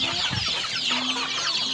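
Rhode Island chickens and young chicks cluck and peep softly in a farmyard coop, a brief continuous murmur of fowl chatter with no talking.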